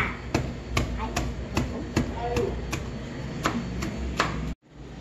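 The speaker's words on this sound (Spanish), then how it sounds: "Ahora vamos a majar aquí. Amajar y aplastar." Garlic is pounded and crushed with a pestle in a steady rhythm of about a dozen sharp, close knocks over a low background murmur, ending abruptly in silence.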